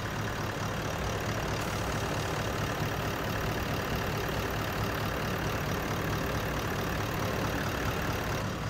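A 4x4 vehicle's engine idles steadily at close range, a low droning rumble with constant mechanical noise and no pauses.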